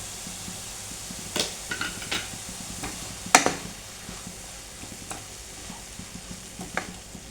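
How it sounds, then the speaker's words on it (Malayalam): Vegetable momo filling with spring onion is stirred in a hot pan: a soft continuous sizzle broken by irregular scraping and tapping strokes, one sharp knock standing out midway. "നന്നായിട്ടൊന്ന് ഇളക്കി യോജിപ്പിക്കാം."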